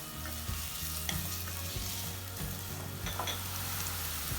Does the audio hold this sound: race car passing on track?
no